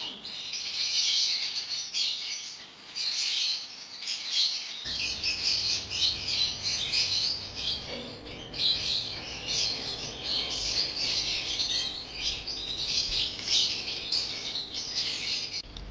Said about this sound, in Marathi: ते रेड आणि ब्लू पॅरेट आहेत, खात आहेत